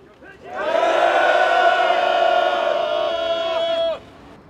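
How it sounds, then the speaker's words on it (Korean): A crowd of artists at a protest rally calling for Park Geun-hye's resignation lets out one loud, sustained shout in unison that lasts about three seconds and then cuts off sharply. "모든 문화예술인들의 힘찬 함성으로 시작하도록 하겠습니다"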